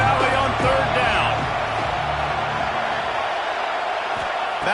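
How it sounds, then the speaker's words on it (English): A big college football crowd in Happy Valley roars on third down, a loud sustained wash of stadium noise that fades slightly, with an announcer talking over it. "Here comes the noise from this big crowd in Happy Valley on third down."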